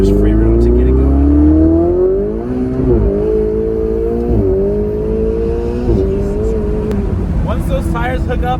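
Ferrari 488 Spyder accelerating hard, its engine note climbing loud and close through several upshifts, each marked by a brief dip before the pitch rises again.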